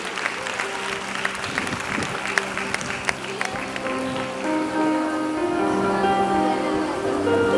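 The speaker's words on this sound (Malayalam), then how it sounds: "ഇത് ഹ്യൂജ് റൗണ്ട് ഓഫ് അപ്ലോസ് നല്ലൊരു ക്ലാപ്പ്" Audience applause at a movie promotion event for the film Swargam, a dense crowd clapping steadily and loudly for several seconds, swelling slightly toward the end.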